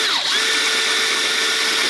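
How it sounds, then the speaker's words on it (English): A power drill whines loudly and close up as it enlarges a screw hole in a spun propeller hub. The motor pitch dips briefly, then settles into a sustained high drone. "And it's a pain in the ass when your drill bit isn't very sharp"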